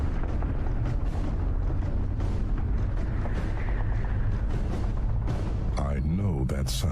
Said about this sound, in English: Is that explosions?